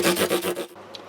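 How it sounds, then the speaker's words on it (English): Sandpaper sanding the fret ends of a Martin JC 16RGTE acoustic guitar, heard as five or six quick rhythmic rubbing strokes up close, then a pause with a faint tick. "We continue the round over using various grits of sandpaper."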